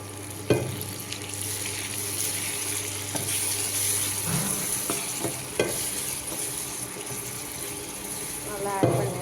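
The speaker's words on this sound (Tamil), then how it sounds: "Now I'm mixing those masalas" Chili, coriander and fish curry masala powders are stirred into a pan while fish curry cooks, producing soft scraping stirs and a low sizzle, with a few sharper clanks near the start and end.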